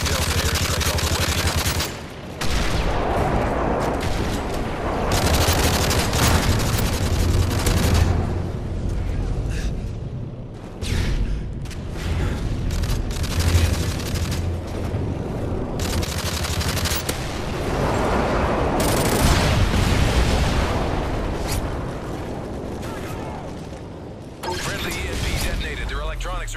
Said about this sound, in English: Delta airstrike all the way.